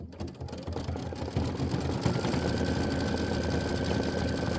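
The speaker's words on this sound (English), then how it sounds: "it wants to do the decorative stitching around all of the tail feathers" An embroidery machine stitches decorative outlines around the tail feathers of a snow bird quilt block, a steady continuous mechanical whir running without pause at moderate level.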